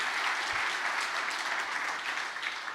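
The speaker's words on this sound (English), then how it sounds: "Can we give them a round of applause?" A keynote audience at a technology sales talk applauds continuously at a steady level throughout, a dense wash of clapping with no speech over it.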